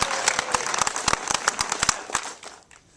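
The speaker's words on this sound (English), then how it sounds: "You can clap on that" An audience claps in a scattered burst of individual sharp claps, loud and close at first, then thinning and fading away over about three seconds, with no voices.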